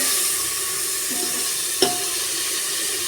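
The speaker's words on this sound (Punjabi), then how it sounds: "ਤੇ ਇਹਨਾਂ ਨੂੰ ਹੁਣ ਆਪਾਂ ਵਿੱਚ ਪਾ ਦਾਂਗੇ ਟਮਾਟਰ ਜਿਹੜੇ ਉਹ ਵੀ ਥੋੜੇ ਜਿਹਾ ਆਪਾਂ ਭੁੰਨ ਲਾਂਗੇ" Chopped tomatoes frying in a pan for potato and eggplant curry, a steady close sizzle with a single brief clink of a utensil partway through.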